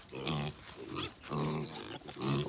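Several farm pigs oink and grunt in repeated throaty bursts about every half second to second, close by and moderately loud, sounding eager as feeding time nears.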